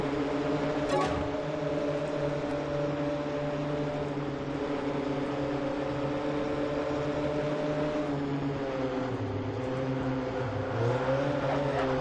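A race car engine from the video game Ford Street Racing drones steadily and loudly for the whole stretch, its pitch dipping and rising near the end as the car shifts speed.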